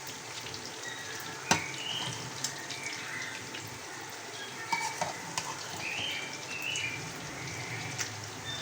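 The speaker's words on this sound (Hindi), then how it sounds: "चिकन हमारा यहाँ फ्राई हो रहा है" Chicken frying in a pan, a soft, steady sizzle with occasional sharp pops and light ticks, fairly close and moderately quiet, with no voices.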